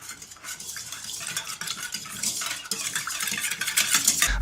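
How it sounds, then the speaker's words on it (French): Milk and yeast stirred together in a mixing bowl, a busy continuous swishing and scraping of a utensil against the bowl, close and growing slightly louder, with no talk. "On commence par mettre dans la cuve le lait, la levure et on mélange."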